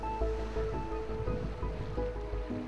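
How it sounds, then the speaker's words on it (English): Iron Spring Creek in a Yellowstone thermal area flows with a continuous, full rushing of water, close and steady for the whole short stretch, with no voices. "The river running through this area is Iron Spring Creek."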